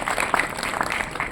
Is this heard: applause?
yes